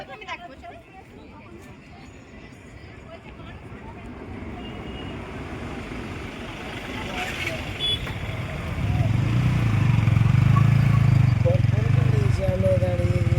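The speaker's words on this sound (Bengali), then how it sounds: "পরপর গাড়ি জ্যামে দাঁড়িয়ে গেছে, আমরাও জ্যামে দাঁড়িয়ে গেলাম।" Cars, buses and motorbikes sit in a heavy traffic jam in Ghatal, a low engine rumble that rises and thickens partway through, with a rider talking over it.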